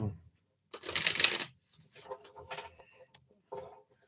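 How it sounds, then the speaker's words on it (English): Tarot reading cards are shuffled close by in one dense burst of riffling and rubbing lasting under a second, followed by quiet speech. "I feel like I need to shuffle these"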